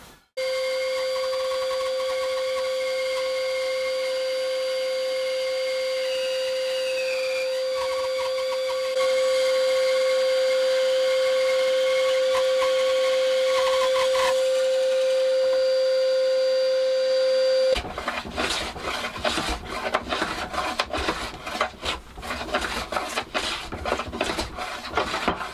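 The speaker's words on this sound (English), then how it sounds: "So I am going to use the bandsaw. I'm going to rip them in half" A bandsaw hums with a steady pitched whine for several seconds, then cuts into an oak batten, ripping it lengthwise with a loud, continuous rasping roar up close.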